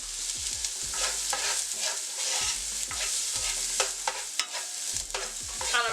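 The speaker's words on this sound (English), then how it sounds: "and we just want to warm the garlic through. 1 cup of chopped onion" Garlic and chopped onion sautéing in a pan for Mexican rice, a loud continuous sizzle broken by repeated scraping stirs and utensil knocks in an uneven rhythm, with no voices.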